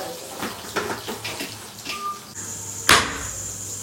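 Water runs steadily from a tap in a home kitchen during cooking, with scattered clatter of utensils and a sharp splash or clank near the end, nearby and without speech.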